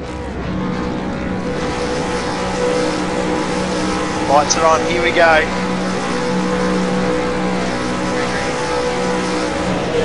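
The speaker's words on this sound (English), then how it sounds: "Yeah, the revs are starting to rise." V8 Supercars revving on the grid at the race start at Twin Ring Motegi: a dense, steady engine drone holds throughout with a brief rising burst midway, while a commentator talks over it.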